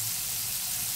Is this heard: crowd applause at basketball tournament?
no